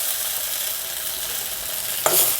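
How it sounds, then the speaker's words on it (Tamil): Tomato sautéing in a little oil in a pan (kadai), a steady soft sizzle with stirring throughout, then a sharper burst of frying near the end. "அதே கடாயிலே கொஞ்சமாக எண்ணெய் விட்டுருக்கேன். இதில் தக்காளி பழத்தை சேர்த்து வதக்கி எடுத்துப்போம்."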